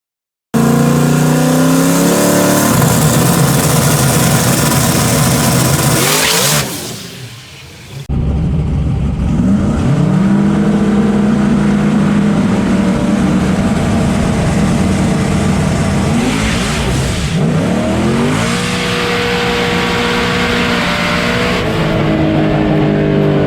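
A drag race car at the Lights Out 12 event, its engine on a broken block, revs loudly and launches down the track with rising, roaring gear pulls, dipping briefly before the engine screams on again, close and continuous with no talk.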